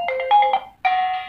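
Alarm ringtone previewed on an Oppo A5 phone, a short bright electronic melody of a few quick notes, a brief gap, then a sustained chime, clear and close.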